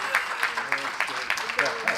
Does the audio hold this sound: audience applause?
yes